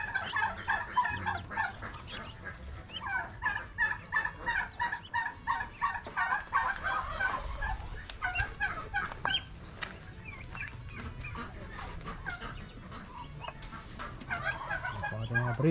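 Ducks quacking near a breeding pen on a warm day, a flock calling in rapid repeated bursts, loud and close, with the calls thinning out later amid low background noise.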